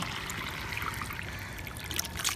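Dirty water from a household water tank is poured into a mug, making a continuous close trickle and splash with scattered droplet plinks.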